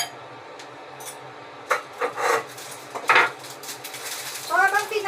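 A Thai street-style dish stirred in a pot, the spoon scraping and clinking in a few short irregular strokes over quiet background noise.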